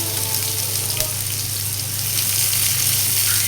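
Chopped onions frying in oil for a small fish recipe, a steady loud sizzle and crackle filling the whole stretch without pause.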